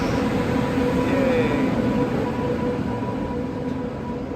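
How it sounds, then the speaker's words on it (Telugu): A passing WAP-7 electric locomotive hauling an express train rumbles steadily, with the locomotive's whine and a low rolling roar that eases slightly toward the end. "Lalaguda వ్యాప్ 7 locomotive leading Kakinada Tirupati express."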